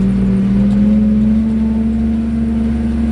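Skaut TV-904C mini tractor driving across a vegetable plot to the next field, its engine running as a loud, steady drone with a constant low hum throughout, with no talk over it.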